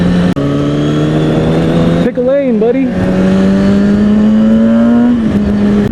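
A Kawasaki ZX6R supersport motorcycle revs hard while riding on a street, its engine note climbing steadily with a quick dip and surge between gear changes, loud and close, while a rider speaks briefly over it.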